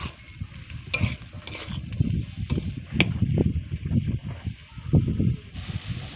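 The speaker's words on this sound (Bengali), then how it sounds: "দিয়ে দিচ্ছি গাজর কুচি, ক্যাপসিকাম কুচি।" Chopped carrot and capsicum fry in a pan, giving a steady close sizzle broken by scraping stirring sounds, with no talking over it.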